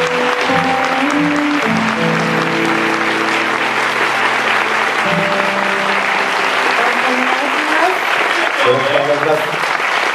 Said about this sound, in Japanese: 盛大な拍手をお願いください。